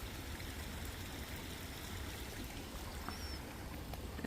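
Hot geothermal water flows steadily near a geyser along a volcanic trail, a continuous broadband rush and trickle that holds even and fairly loud throughout, with no voices.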